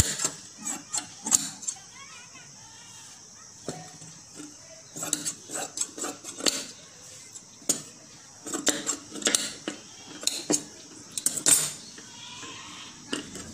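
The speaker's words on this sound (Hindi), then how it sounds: "और इन दोनों को हम मिलाते हुए कट कर लेंगे आस्तीन को।" Scissors cutting fabric for a sleeve, producing a series of close, crisp metallic snips and clicks in irregular clusters, fairly quiet, with brief pauses between cuts.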